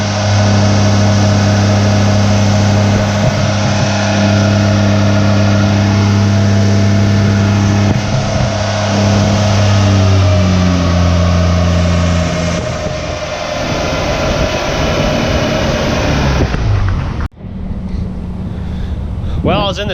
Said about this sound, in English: They are dynoing Jared's truck.